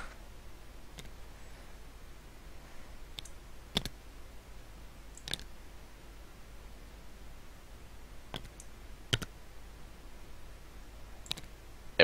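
Tabletop Simulator puzzle pieces snap into place as faint, sharp clicks, spaced irregularly a second or two apart over a quiet, steady background hiss.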